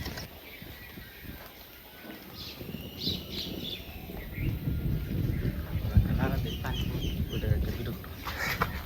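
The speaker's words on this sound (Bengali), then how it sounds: "নতুন বৃষ্টি জল পেয়ে ফুর্তি নিয়েছে ওই যে 20-25টা হাঁস" A flock of twenty to twenty-five ducks splashing in fresh rainwater sends up scattered quacking calls that grow busier over time. People talk nearby.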